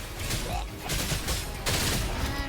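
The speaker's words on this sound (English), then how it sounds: "Gunfire! Coming from behind that door!" Bursts of rapid automatic gunfire in a Cyberpunk 2077 Edgerunners crossover video game, loud clattering volleys in several surges with booming low thuds, layered with game sound effects and some voice.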